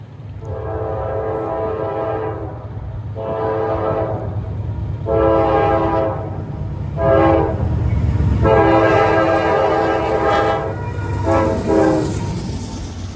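A Norfolk Southern freight train hauling empty auto racks rumbles past steadily in eastern Pennsylvania while its horn blows in a series of long and short blasts, loud and close, with no voices.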